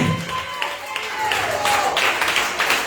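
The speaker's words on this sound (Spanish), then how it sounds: "Un aplauso al Señor esta tarde." A church congregation claps in a steady, dense patter during a service, with voices calling out over the applause.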